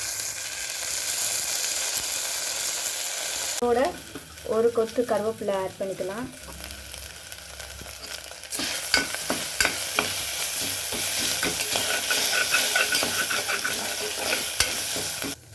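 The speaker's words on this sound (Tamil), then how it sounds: "வதங்கினதுக்கப்புறம் ஒரு 2 ஸ்பூன் இஞ்சி பூண்டு பேஸ்ட்டு இதோட ஆட் பண்ணி வதக்கணும்." Onions with ginger-garlic paste sizzle steadily in a pan while a spoon stirs and scrapes, a close, continuous frying hiss for a mushroom gravy, with a voice speaking over the cooking.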